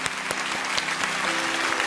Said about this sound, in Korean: 박수로 한번 축복해 주시면 감사하겠습니다